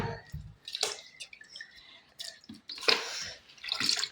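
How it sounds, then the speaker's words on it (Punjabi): Tie-dyed suit fabric is dipped and rinsed in a container of clean cold water, giving faint, intermittent splashes, drips and sloshes in short bursts separated by quiet gaps. "ਹੁਣ ਆਪਾਂ ਇਹਨੂੰ ਇੱਧਰ ਸਾਫ ਠੰਡੇ ਪਾਣੀ 'ਚ ਡਿਪ ਡਬੋ ਦਾਂਗੇ"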